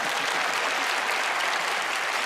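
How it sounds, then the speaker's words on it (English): Sustained audience applause fills the space, a dense, even wash of many hands clapping at once, steady and moderately loud with no voices over it. "Give her a round of applause"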